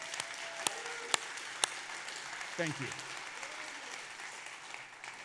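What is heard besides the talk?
audience applause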